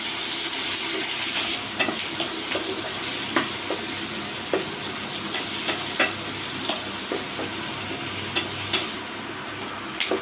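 Chopped onion and tomato sauté in a pan for chickpea curry, a continuous close sizzle punctuated by frequent light taps and scrapes of a spoon stirring, with no talk.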